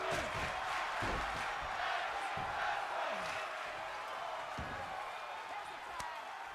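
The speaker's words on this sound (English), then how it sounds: "Tag team wrestling chants from the crowd." A tag team professional wrestling crowd fills the arena with a dense, steady roar and chanting, and thuds and slams from the ring break through at intervals.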